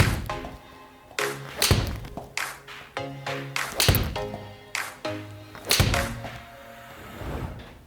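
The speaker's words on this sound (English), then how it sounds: "let's hit 4 or 5 shots with your 7-iron to get some control shots out there." A golfer hits four or five control shots with a 7-iron during an iron club fitting, each strike a sharp, close thunk, arriving at irregular intervals of a second or so. Faint tonal background sounds run underneath.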